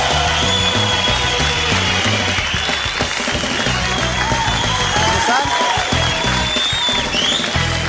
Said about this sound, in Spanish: El aplauso para Hassam.